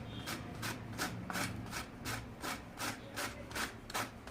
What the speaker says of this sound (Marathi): असं किसायचं बारीक किंवा चाकूने पण कापू शकता